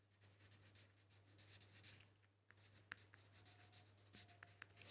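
Numbers are written on a board during a primary maths lesson, a faint, soft scratching and rubbing of strokes with a short pause, a few light taps, then a louder scrape at the end.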